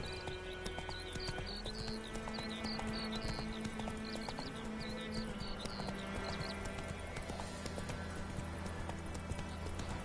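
A horse gallops in The Witcher 3, with steady, rhythmic hoofbeats pounding throughout over continuous game ambience.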